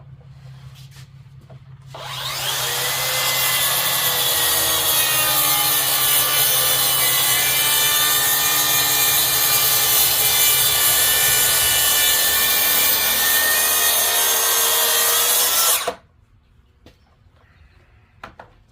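A saw cuts tenons into a walnut table top, one continuous loud, steady rasping stroke sequence lasting about fourteen seconds, starting and stopping abruptly against a quiet room hum.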